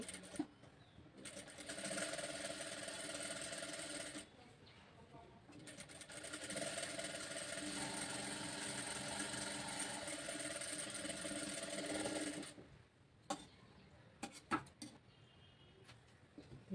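Domestic sewing machine running in long steady bursts while stitching the seam of a 32-size princess-cut blouse, with short pauses between runs and a few sharp mechanical clicks near the end.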